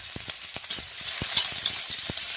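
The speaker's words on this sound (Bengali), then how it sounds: "এর মধ্যে পেঁয়াজ কুচি দিয়ে দেবো।" Chopped onion hitting hot oil with dried red chillies, a soft sizzle under a few sharp scraping strokes of a spatula against the pan, fairly quiet and close.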